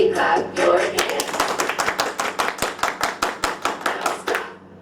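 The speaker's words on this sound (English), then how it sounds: "And everybody clap your hands." A group claps in a steady rhythm of sharp, even claps that run for several seconds, loud and close, then stop abruptly.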